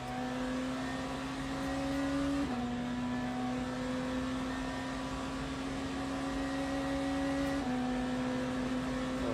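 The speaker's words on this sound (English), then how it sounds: "Asta e BMW-ul M Hybrid V8." BMW M Hybrid V8 race car in a rainy Le Mans endurance race sim, its engine droning steadily at high revs with two clear upshifts where the pitch drops, heard close from onboard.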